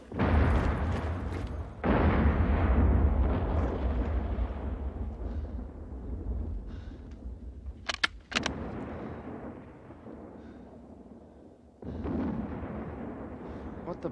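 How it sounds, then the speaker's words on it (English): Bombs exploding in a WW1 battle scene, several heavy booming blasts with long rumbling decays, one sharp crack midway, and shouting voices mixed in. "Look out! Bombs!"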